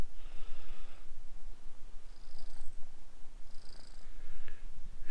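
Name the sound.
cat purring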